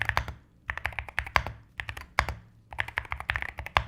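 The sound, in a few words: typing on AKKO MU01 Mountain Seclusion keyboard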